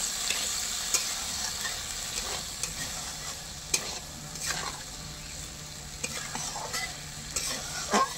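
Hog plum (amra) chutney with added sugar is stirred in a pan, a steady soft sizzle broken by scattered scrapes and clinks of the spoon against the pan, close up and without voices.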